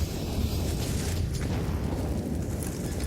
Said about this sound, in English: Grenades being deployed.